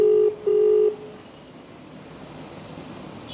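Two short telephone dialing beeps sound in quick succession at the start, loud and clear, followed by a faint background hum and quiet line noise.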